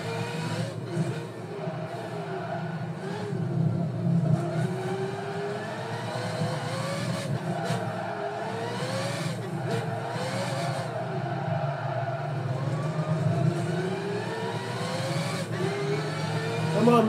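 Mazda race cars lapping Fuji Speedway in Gran Turismo 5, steady engine drone with rising and falling gear-change whines throughout, loud and continuous.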